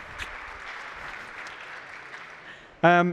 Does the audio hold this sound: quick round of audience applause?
yes